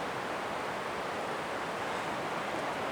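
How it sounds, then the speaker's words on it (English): Red Creek in the Dolly Sods Wilderness of West Virginia runs high and fast, a steady broadband rush of water heard alone and without pause. "Red Creek is absolutely ripping down there"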